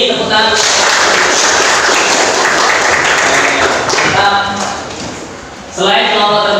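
A class applauds the best group, loud dense clapping from many students close by that dips and then swells again, with voices speaking around it.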